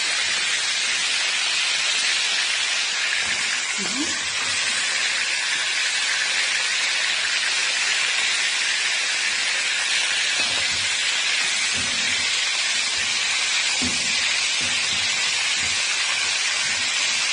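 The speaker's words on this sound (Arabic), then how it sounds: "عايزين بس نبدأ الصدمة كده في الزيت عشان ما تنزلش السائل بتاعتها" Kebab pieces seared in hot oil for a home-style Egyptian kebab halla give off a steady, loud broadband hiss throughout, with a few faint knocks and scrapes from turning the meat.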